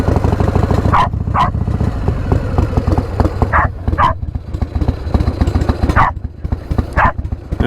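A dog barks in short loud bursts, pairs and singles spaced a few seconds apart, close by over a steady rumbling Harley-Davidson Evo motorcycle engine running throughout.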